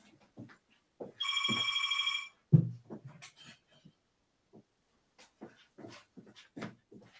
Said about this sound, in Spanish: justo ahora me está sonando el teléfono